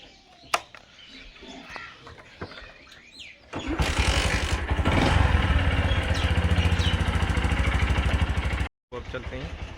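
Motorcycle engine starting up and running steadily while riding through misty morning, a loud continuous buzzing drone after a few seconds of quieter outdoor sounds with bird chirps, cutting out briefly near the end.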